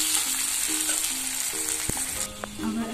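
Chopped onions added to a hot pan for soya chilli, a steady bright sizzle and frying hiss, with faint tonal tones and a brief clink from utensils underneath.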